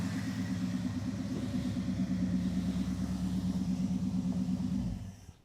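A Dodge 5.2 V8 breathing through a 2-barrel carburetor in a crew cab Charger, a deep, loud, even rumble that holds steady and then dies away as the engine is shut off.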